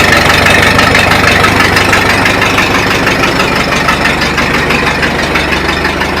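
A Farmall Super A1 tractor engine runs loud and close after starting, a steady chugging idle with a rapid, slightly uneven mechanical knock.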